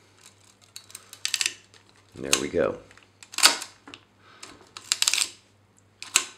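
Film being advanced on a Konica Autoreflex 35mm SLR camera: a few close, crisp mechanical ratcheting clicks and lever strokes in short bursts, with someone speaking briefly between them.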